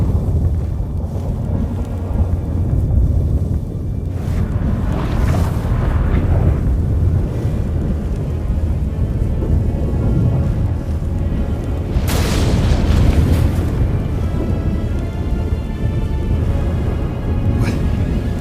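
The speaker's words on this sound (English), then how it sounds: "That a storm?" Heavy storm rumble with deep booming thunder and roaring wind in The Witcher 3, a continuous loud low roar with brighter cracks swelling around the middle and late stretches, no voices.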